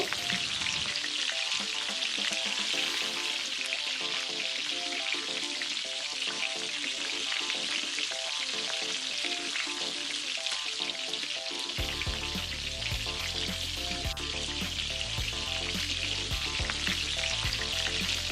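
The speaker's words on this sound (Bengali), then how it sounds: "এবার উল্টে পাল্টে খুব ভালো করে লাল করে ভেজে নিতে হবে" Steady, loud sizzling and crackling of chicken lollipops deep frying in hot oil, continuous throughout with no talking.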